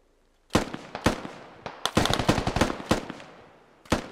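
Rifle shots from a video game shooter, fired out a window: sharp, loud cracks in irregular bursts, a couple of single shots, then a rapid cluster, and a final shot after a pause, with no talk.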